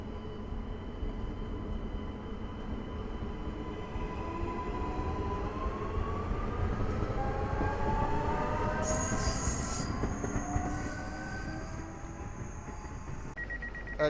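A Warszawska Kolej Dojazdowa commuter train runs through Podkowa Leśna station with a steady rolling rumble and squealing wheel tones, then a high-pitched screech rises near the end.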